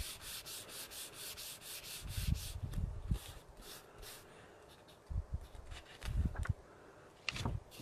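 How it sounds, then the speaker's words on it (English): Gentle, repeated rubbing strokes on vellum paper wiping off a wet medium, soft rhythmic swishes with a few low bumps, close and quiet. "I usually take it and kind of rub it off a little bit"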